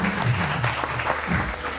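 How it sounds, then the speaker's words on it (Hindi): A studio audience claps for a weekend talk show, a steady, dense patter of applause that holds at an even level throughout. "बहुत सारी तालियां।"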